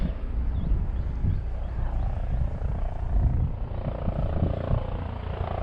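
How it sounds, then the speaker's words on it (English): A helicopter's low, pulsing rotor thump drones steadily overhead, moderately loud and continuous with no voices. "There's a helicopter."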